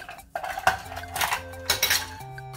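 Fruit being stirred with sugar in a bowl, a few close utensil clinks and scrapes against the dish in an otherwise quiet kitchenette, with no voices.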